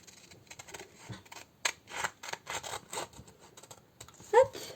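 Scissors snip through labels on a plastic-wrapped item in a series of close, crisp cuts and rustles, irregular in rhythm, with a brief louder snip near the end.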